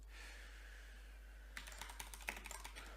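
Brisk typing on a computer keyboard to write a message, beginning after a quiet pause: a quick, irregular run of close, crisp key clicks with one or two louder taps, no voices.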